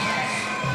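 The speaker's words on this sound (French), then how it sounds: "La foule est en délire." Supporters roar at a boxing match in a brief, steady wash of loud crowd cheering and shouting, with no single voice standing out.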